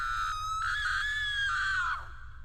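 A woman's high, sustained horror-style scream rings out loud and alone for about two seconds, wavering in pitch before dropping off abruptly over a low background hum.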